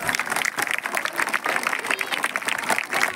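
An audience at a speech honoring a retiring officer claps loudly and continuously, a dense, even wash of many hands that stays full for the whole stretch.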